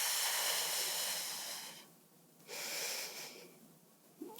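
Deep, slow breaths during an abdominal workout, heard close and fairly soft: long hissing exhales, a short pause, another long breath, then a quick sharp intake at the end.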